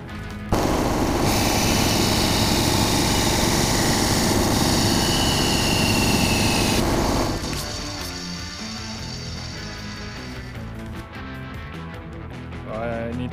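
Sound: bandsaw cutting a metal spacer

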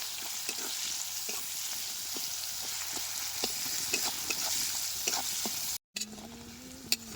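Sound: garlic, onion and chilli frying in oil

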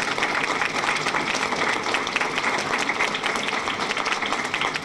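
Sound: applause for the army and navy

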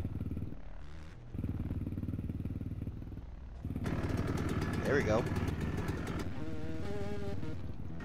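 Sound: two-stroke YZ125 dirt bike engine in Roblox video game

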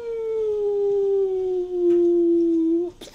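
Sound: voice imitating a cartoony falling sound effect

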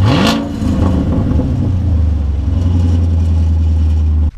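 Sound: car revving with straight pipe exhaust

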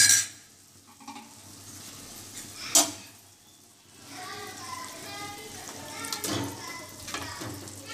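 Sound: chicken gravy masala frying in oil

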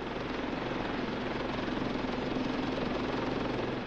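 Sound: naval helicopter

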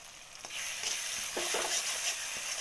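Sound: stirring and frying tomato with salt and spices

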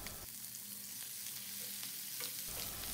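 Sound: chopped tomato being stirred into frying curry

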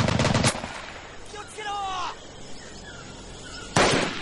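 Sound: gunfire in the video game Medal of Honor Pacific Assault

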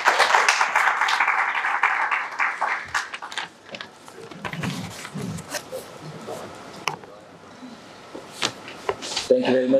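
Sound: audience applause at book launch

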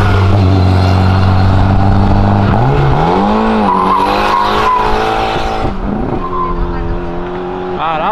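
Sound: car braking hard, tires skidding on the road

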